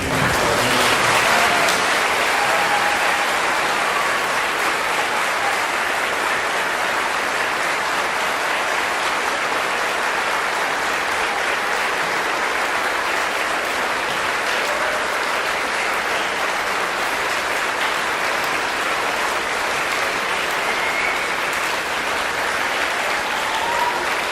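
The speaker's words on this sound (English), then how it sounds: "please rise and give one last round of applause to show our appreciation" Students at a high school Veterans Day assembly give a sustained round of applause, a dense, even roar of clapping from a large crowd that carries on steadily throughout.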